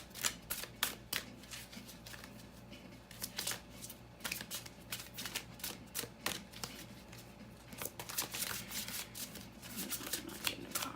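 Tarot cards are shuffled for a full moon reading, a continuous run of crisp riffling and flicking slaps with irregular sharp bursts, fairly close and steady throughout, with no voices.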